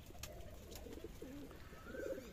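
Racer and Giribaz pigeons coo softly in a quiet loft, a few low rolling coos repeating close by with no talk.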